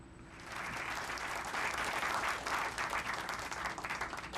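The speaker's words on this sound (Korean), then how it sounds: "격려의 박수를 보내주시기 바랍니다." Audience applause for soldiers at a live-fire military exercise, a dense crowd clapping that swells after a soft start and holds steady, heard from some distance.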